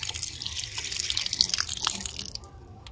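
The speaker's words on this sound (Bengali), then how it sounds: "তো চলো একটু হাতটা ধুয়ে নিই" Tap water running into a sink while hands are washed at home, a steady close splashing and trickling stream with small drips, moderately loud and alone.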